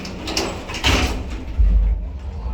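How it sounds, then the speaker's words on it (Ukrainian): Sliding doors of a 1991 MLZ elevator rolling open with a broad rumbling swish that swells and settles over a couple of seconds, close and fairly loud, with no talking. "Ух, теж двері дивіться які."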